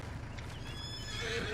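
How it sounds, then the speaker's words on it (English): A horse neighs in the farming video game Farmlands, a steady whinny with faint hoof clip-clop beneath, over a continuous low game background. "And those are our two horses."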